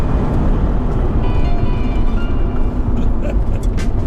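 A cheap sports car accelerates hard through the gears, its engine a loud, dense low roar heard from the cabin, with a person talking over it.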